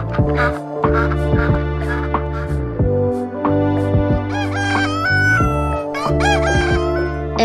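Chickens cluck and a rooster crows repeatedly in a cartoon farmyard from the fairy tale The Ugly Duckling, the bird calls standing out clearly over a continuous backing of music.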